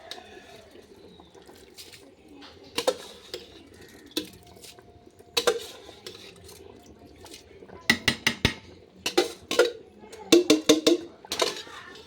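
A metal spoon scrapes and clinks against a pot while biryani rice is stirred, in sparse knocks that grow busier and louder near the end, with birds cooing faintly in the background.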